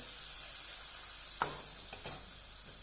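Greens sautéing with turmeric powder in a pan give a steady close sizzle, broken by a few sharp scraping stirs of a spatula, with no talking.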